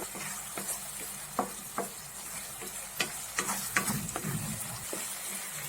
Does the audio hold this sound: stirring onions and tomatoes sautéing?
yes